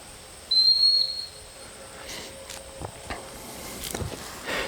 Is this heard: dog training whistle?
yes